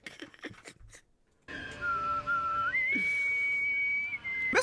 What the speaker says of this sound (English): he's whistling the national anthem